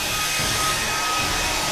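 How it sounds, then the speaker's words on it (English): A hairdryer blowing hot air runs as a steady, even whir with a faint high tonal whine, constant and close throughout, with no talking. "To add heat with a hairdryer."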